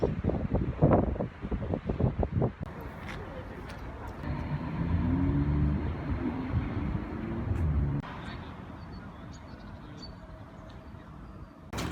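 Gusty wind in Berlin on a cold day rumbles against the microphone, with a car engine and passing traffic nearby and brief talk at the start.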